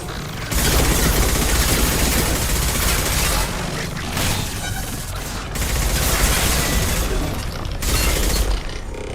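Heavy gunfire in Mass Effect 2, loud sustained automatic volleys in several surges separated by short lulls, with booming impacts mixed in.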